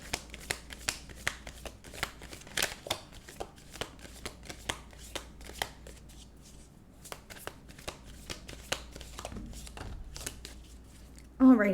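Tarot cards being shuffled up close in a quiet room, a long run of crisp riffling snaps and soft slides in an uneven rhythm, with no talk over it and a brief bump at the very end.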